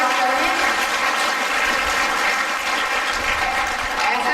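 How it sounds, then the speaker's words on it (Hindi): Sustained, dense applause from a large audience welcoming guests at a Brahma Kumaris Rajyoga gathering in Fatehabad, a steady wash of clapping at even loudness throughout with no voices over it. "जितना भी जोरदार तालियां बजाएं और दीदी का स्वागत करें"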